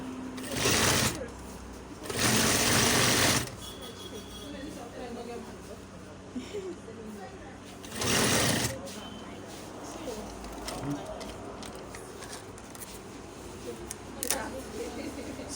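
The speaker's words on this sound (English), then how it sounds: "You can as well sew directly on top of the line you actually stitched on before." Sewing machine stitching over elastic on a bomber jacket, running in several loud bursts of steady whirring with quieter gaps between them, up close.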